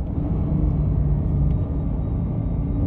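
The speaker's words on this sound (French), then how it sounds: "Ah, une Ferrari qui vient d'arriver" A Ferrari supercar rumbles as it arrives in Berlin, where a convoy of supercars is gathering, giving a steady, loud, deep engine drone with no talk.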